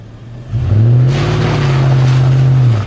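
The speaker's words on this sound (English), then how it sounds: "throw it in reverse and gas it, dude, and you can get out" A stuck car's engine revs hard in reverse on a camping trip at Foresthill, a steady loud roar that climbs and holds for a couple of seconds, close by with no voices.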